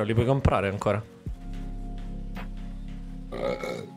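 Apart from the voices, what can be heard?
a big burp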